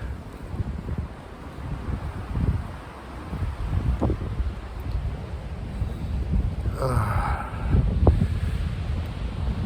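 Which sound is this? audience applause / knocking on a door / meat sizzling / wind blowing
wind blowing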